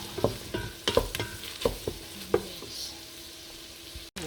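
Chicken feet frying in a pan, with a steady sizzle under sharp clunks of stirring and utensil taps in the first half, then a quieter continuous sizzle near the end.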